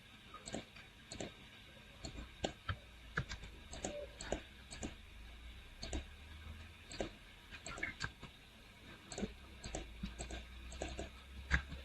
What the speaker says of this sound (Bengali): এবার এন্টার চাপলে বছর দেখাবে।